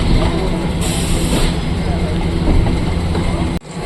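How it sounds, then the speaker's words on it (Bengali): A train pulling out of a station and running, heard as a loud, steady low rumble and rattle of wheels and engine throughout, ending abruptly. "এই জাস্ট ট্রেনটা 4:10 ট্রেন ছাড়লো,"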